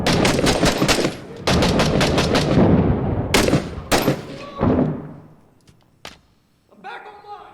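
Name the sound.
grenade explosion and gunfire in video game 6 Days in Fallujah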